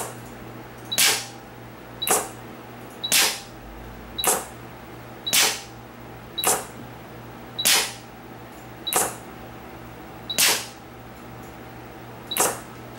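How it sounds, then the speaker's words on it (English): Acro Generation 1 pneumatic pinch valve cycling with no tubing loaded, giving about ten sharp hissing clacks at roughly one-second intervals over a steady low hum, close and alone. "now we're going to run the valve a couple times and take some readings while the valve's actuating"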